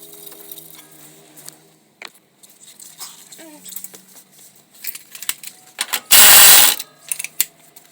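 A ratchet tightens bolts during a coilover install on a 2001-2005 Lexus IS300, giving quick clicking runs and scattered metallic taps in a quiet garage, with one loud noisy burst partway through.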